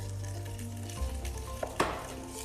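A rum and pineapple juice mixture starts cooking in a pan, giving a soft, steady sizzle close by with a couple of brief clinks and stirring sounds, no one speaking.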